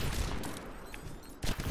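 Video game gunfire from a jump shot, a dense burst of rapid shots that fades and then flares again briefly, heard loud and close.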